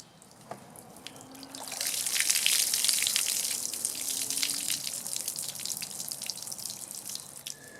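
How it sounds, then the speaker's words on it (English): Water pours and trickles out of a tipped window air conditioner unit, a close splashing stream that swells after a second or two, then continues steadily with drips and gurgles. "I'm going to do is tip this and get the water out that's sitting in here"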